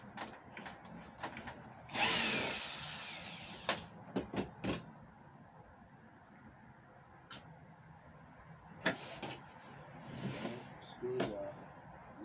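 A power drill backs screws out in short whirring bursts, with a longer run of motor whine and several sharp clicks and knocks scattered between them.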